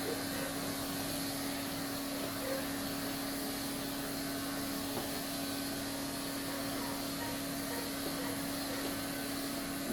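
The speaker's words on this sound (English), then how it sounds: "Notice how I'm doing most of my blending with my clipper as well." A hair clipper buzzes steadily and close by through a haircut blend, a continuous even motor whine with no pauses and no talk.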